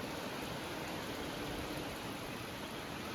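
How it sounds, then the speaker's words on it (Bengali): Heavy downpour outside at night in the hills of Kurseong, a steady dense hiss of rain, even and unbroken, heard from indoors. "বাইরে মুসলধারে বৃষ্টি শুরু হয়েছে"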